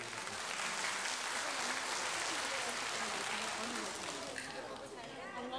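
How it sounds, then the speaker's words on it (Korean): Studio audience at a 1983 live Korean broadcast for reuniting separated families applauding a reunited family, a steady, moderately distant wash of clapping with some crowd chatter mixed in. "우리는 또 박수를 좀 쳐드려야 되겠네요."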